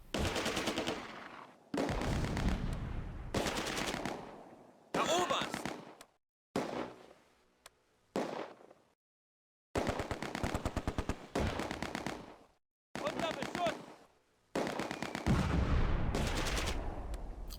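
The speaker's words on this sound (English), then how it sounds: "The Bren gun section opens fire from a depth position in the 4-story building." Bren light machine gun bursts and mortar fire from the WWII video game Close Combat at Arnhem Bridge, loud rapid automatic volleys in separated bursts with brief silent gaps between them.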